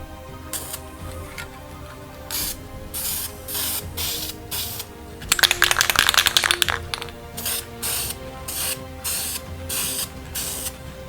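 Spray paint hisses from an aerosol can onto a 68-foot steam freighter model indoors, in repeated short bursts with brief gaps, and a denser run of rapid bursts midway; no one speaks.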